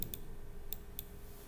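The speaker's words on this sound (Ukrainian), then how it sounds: "Отут клацаю." Mouse clicks while working on a computer, four short sharp ticks spaced unevenly over about a second and a half, close and fairly quiet against a low steady hum.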